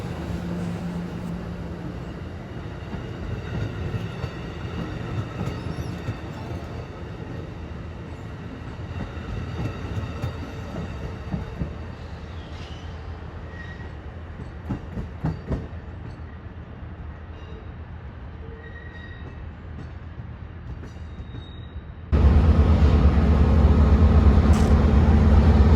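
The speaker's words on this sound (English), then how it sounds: "The Texas Eagle has just arrived to Los Angeles Union Station." Amtrak Texas Eagle passenger train arriving at Los Angeles Union Station, a continuous rolling rumble with scattered metallic squeals and clanks, then a sudden louder burst of engine noise near the end.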